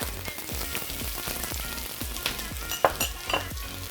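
Celery and scallion bottoms sizzling in hot oil in a wok, a continuous crackling fry with regular soft stirring thumps, close and moderately quiet, with no talking.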